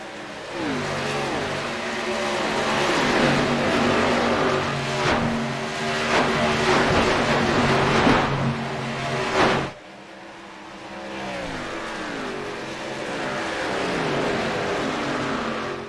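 Several NASCAR K&N Series stock cars race past in a long train under green-flag conditions, engines roaring loud and steady with rising and falling pitch as they pass, a brief dip near the middle before the pack noise swells again.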